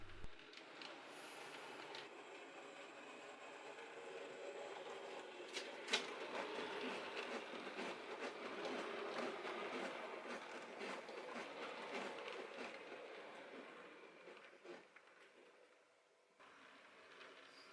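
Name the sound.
model railway passenger train departing station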